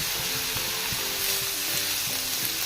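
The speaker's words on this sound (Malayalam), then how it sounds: "കുറച്ച് വെളിച്ചെണ്ണ ഒഴിച്ചു കൊടുക്കാം." Coconut oil poured into a hot pan for a Kerala-style shallot theeyal sizzles with a dense, continuous hiss, loud and close, with soft music tones underneath.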